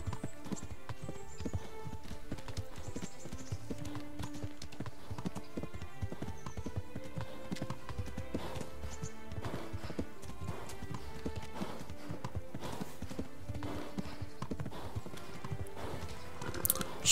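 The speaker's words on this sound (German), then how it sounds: "schon voll am Pumpen, das Pferdchen" Horse hooves clip-clop steadily through a Kingdom Come: Deliverance game scene, with occasional whinnies over continuous background music and game ambience, steady and moderately loud throughout.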